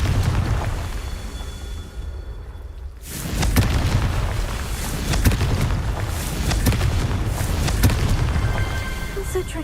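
A Confringo spell blast in Hogwarts Legacy erupts as a heavy boom after a brief quiet gap, followed by sustained rumbling blast noise with scattered crackling pops, loud and close.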